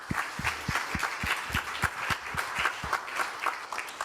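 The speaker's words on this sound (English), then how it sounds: "I want to give a big round of applause for all the panelists." An audience at the close of a live panel discussion applauds for the panelists, with rhythmic, fairly sparse clapping from a modest crowd that carries on steadily throughout.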